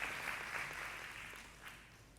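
Faint clapping from a congregation at a live Shavuot service, a short burst that tails off quietly within a couple of seconds, with no talking over it.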